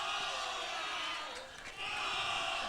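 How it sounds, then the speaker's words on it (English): Crowd at a netball grand final cheering and roaring, a dense, steady wash of noise from a large audience, heard at moderate volume without a clear peak. "And here comes the crowd."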